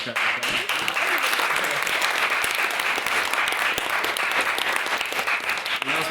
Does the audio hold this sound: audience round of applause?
yes